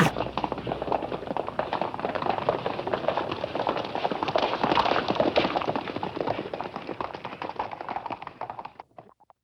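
A horse stampeding, its hooves clip-clopping in a fast, dense rhythm for about nine seconds, loud and close, then cutting off abruptly at the end.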